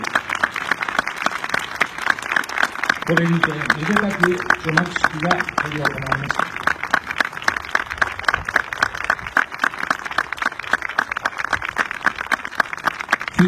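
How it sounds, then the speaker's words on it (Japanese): Sustained applause from an audience at an auditorium unveiling ceremony, loud, crisp and continuous throughout, while a presenter speaks over the clapping for a few seconds partway through. "皆様盛大な拍手をお願いいたします。"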